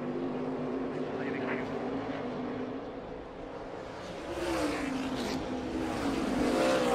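NASCAR Xfinity Series race cars roar around the track at the Shriners Children's 200, a continuous broadband engine drone that swells slightly toward the end, heard from a distance with no talk.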